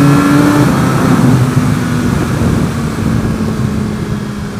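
A Suzuki GSX-R1000R sport motorcycle engine revs hard and is short-shifted through the gears, with a loud, close mid-pitched roar that holds steady and eases slightly toward the end.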